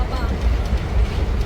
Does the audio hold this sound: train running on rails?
yes